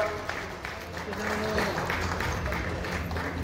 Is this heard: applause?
yes